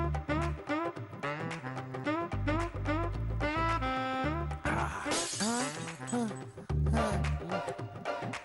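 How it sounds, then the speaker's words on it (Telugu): Glass shatters midway through a scene of a Telugu comedy serial, a bright crashing burst heard over busy, loud background music. "ఇప్పుడు గ్లాస్ నేను బ్రేక్ చేసిన"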